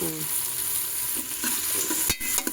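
Onions, tomatoes and peas with masala sizzle and fry in a pan, with scraping stirs and a few louder clanks near the end, no talking.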